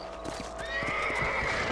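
Horse hooves gallop in Red Dead Redemption, a steady clip-clop rhythm up close with a whinny and rising tonal game sounds layered over it, no talking.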